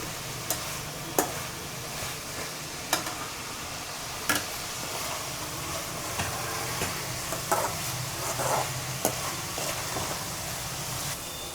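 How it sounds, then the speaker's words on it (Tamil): Tomatoes sizzle steadily as they sauté in a hot pan, with occasional stirring scrapes and clicks, close and fairly quiet, with no talking. "இந்த தக்காளி வந்து எப்படி வதங்குது பாருங்கள் சீக்கிரம் வதங்குது பாருங்கள்"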